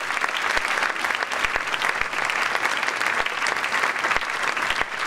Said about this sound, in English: So please, a round of applause for these students on stage.